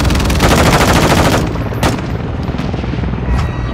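Sustained automatic gunfire rattles loudly in Call of Duty: Modern Warfare II multiplayer, a dense rapid burst that gives way to scattered shots and explosive booms amid continuous battle noise.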